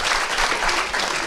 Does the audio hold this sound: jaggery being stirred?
no